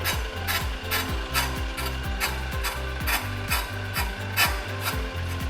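Hofmann True Cut 401 brake disc lathe running with its cutting blade fed inward, giving a steady scraping rasp over a rhythmic low mechanical thumping, continuous and fairly close with no talk.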